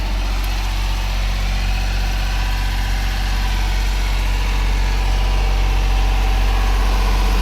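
Miller Big Blue 500 diesel site welder generator with a water-cooled Mitsubishi engine idling, a steady, loud, continuous low drone with an even mechanical hum throughout and no voices.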